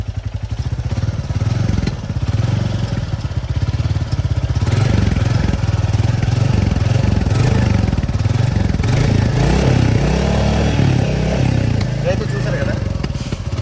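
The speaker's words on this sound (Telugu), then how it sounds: "కనెక్ట్ చేసిన తర్వాత వెంటనే బండి ఆగిపోకుండా ఉండాలి అనేసి అంటే త్రోట్లు ఇస్తూ ఉండాలి" A motorcycle engine idling with the throttle held open during a carbon-cleaning job, running continuously and close, with a loud, rough, steady rumble that rises and falls slightly as it is revved; someone talks over it throughout.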